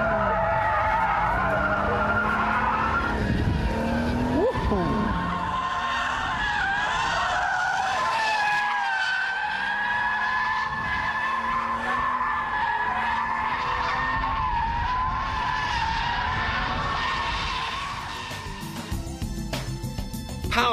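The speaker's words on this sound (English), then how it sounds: "Power slides are a bit trickier than donuts, but then they are more fun too." A car power sliding at around 50 mph on a large open square, tyres skidding and squealing continuously for about twenty seconds, loud and close with the engine droning underneath.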